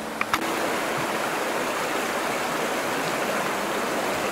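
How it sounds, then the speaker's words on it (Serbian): The Senokos river near Dimitrovgrad murmurs in a steady, close, even rush of flowing water, loud and unbroken throughout, with no voices. "Žubor Senokoske reke"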